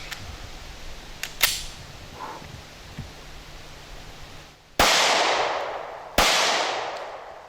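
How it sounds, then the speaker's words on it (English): A Smith & Wesson M&P Shield .45 ACP pistol firing Winchester ammunition outdoors, two loud, sharp shots a second or so apart, each trailing into a long echoing decay, after a few faint clicks and handling sounds. "So let's see if this gun will shoot it."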